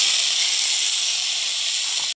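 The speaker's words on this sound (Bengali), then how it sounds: "এবার পেঁপেটা ভেজে নেব।" Papaya pieces fry in hot oil in a pan, giving a steady, bright sizzling hiss that stays even and close for about two seconds before cutting off abruptly, with no talk.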